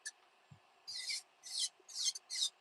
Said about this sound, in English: If you're filing like this